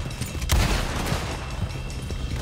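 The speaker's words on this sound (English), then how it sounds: "Fine, maybe I can shoot one of them." A sharp gunshot from the video game Red Dead Redemption 2, a single loud crack followed by a rumbling tail in the open game world.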